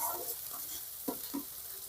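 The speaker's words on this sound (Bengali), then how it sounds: "মশলাটা সুন্দরভাবে কষাতে হবে যেন মশলা থেকে তেল ছেড়ে দেয়" Spice paste for potol dolma sizzles in hot oil while being stirred and fried, a soft continuous sizzle with occasional scraping stirs, fairly quiet and close, no talking.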